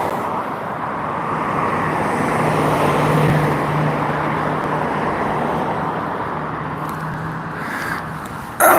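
Road traffic rushes past in a continuous broadband roar, with a steady drone swelling and fading as vehicles pass close by, and no voices heard.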